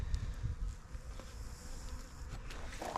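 Honeybees buzz inside a weakened hive, a steady, low, close hum with a few louder passes of individual bees.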